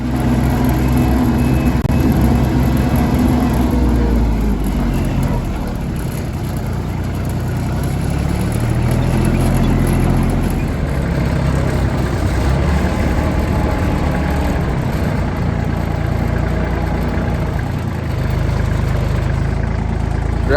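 A tractor engine runs loud and steady at a rumbling idle for about twenty seconds, its low drone shifting slightly in pitch midway, with no talking over it.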